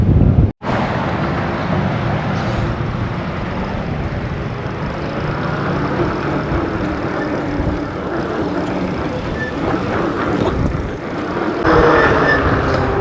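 Steady, loud wind buffeting the microphone, a low broadband roar throughout with a brief dropout near the start and gusts swelling toward the end.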